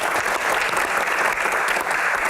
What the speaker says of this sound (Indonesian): Tepuk tangan dulu biar semangat